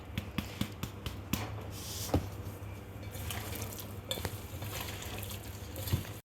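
Food being stirred and mixed in a pan after tomato is added to a beef dish, soft scraping with a few sharp utensil knocks against the pan and a faint sizzle, no talk.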